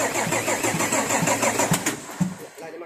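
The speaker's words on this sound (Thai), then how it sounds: "ติดเครื่องครับ" A car engine cranks and catches at close range, then settles into a rough, even idle with a brief rev.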